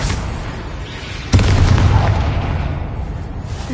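A Bombarda blasting spell goes off in the Hogwarts Legacy game inside an old closed mine: one sudden loud boom, then a long rumbling roar that fades slowly over dense background noise.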